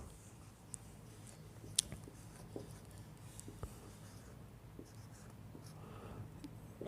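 A lecturer's marker or chalk writes on a board, faint scratchy strokes and light taps spaced irregularly over a quiet room, with one sharper tick near the start.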